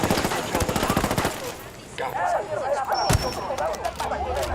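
Gunfire and a drone explosion in the tactical shooter Ghost Recon Wildlands during a rooftop assault on a fenced compound: a rapid burst of automatic fire, then scattered shots and a sharp blast near the end, under a loud game soundscape.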